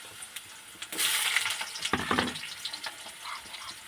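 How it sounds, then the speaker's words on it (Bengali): Potatoes frying in oil in a home kitchen, a close, steady sizzle that swells sharply about a second in and stays busy with crackles and stirring scrapes to the end. "আলুগুলো আমি একটু লাল লাল করে এবার ভেজে নেবো"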